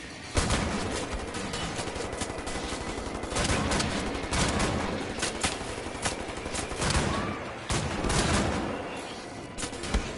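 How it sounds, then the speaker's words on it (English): Sustained enemy gunfire in Wolfenstein: The New Order, loud and dense, with rapid overlapping shots and bursts running throughout and brief sharp blasts punctuating the barrage. "Stop shooting me, okay?"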